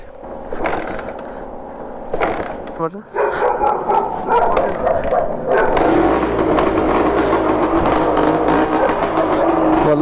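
A 36-year-old two-stroke Honda MTX125R motorcycle engine sputters, then catches and runs with a loud, rough, buzzing idle that continues to the end, with some noisy handling sounds early on.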